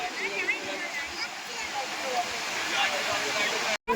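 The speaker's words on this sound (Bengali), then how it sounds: "আজকে ঢেউ অনেক বেশি, অনেক বেশি" Strong sea waves roll and break on Puri beach in a broad, continuous roar and wash, loud and close, with voices talking over the surf and a brief dropout near the end.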